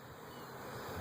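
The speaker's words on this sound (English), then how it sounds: "Ah, don't get in my face. Stupid bees." Honey bees hum around an open beehive in one brief, faint, continuous buzz with no other sound.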